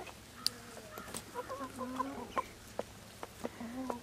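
Several chickens cluck and murmur softly nearby, with scattered short clucks and occasional sharper calls over quiet background noise.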